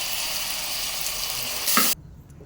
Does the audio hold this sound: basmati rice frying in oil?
yes